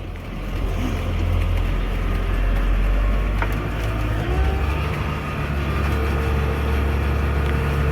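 An old tractor pulling a bush hog mower turns around in a field, its engine droning loud and steady throughout, with a deep rumble and wind-like noise over it.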